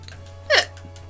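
A single sharp, loud hiccup from a person, a brief voiced gulp that stands out alone against a low steady hum.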